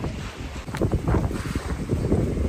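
Strong typhoon wind gusting during a flood in Hagonoy, buffeting the microphone in loud, continuous rushing bursts with steady background roar throughout.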